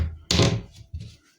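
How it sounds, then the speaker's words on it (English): Push-to-open catch on a van wardrobe door gives a single sharp, close thunk, followed by a softer second knock a moment later. "I've also added push to open catches on the wardrobe"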